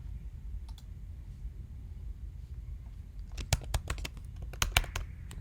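Typing on a computer keyboard while entering invoice details: faint scattered clicks at first, then a quick run of crisp, close keystrokes.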